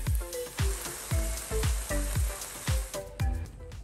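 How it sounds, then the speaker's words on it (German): Tofu frying in rapeseed oil in a pan, a steady loud sizzle with a rhythmic series of scraping stirs roughly every half second, close and with no talking. "So, es brutzelt jetzt schon mal gut"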